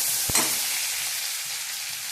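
Garlic, onion and tomato sizzle in a hot pan, a steady loud frying hiss with a single sharp clink near the start.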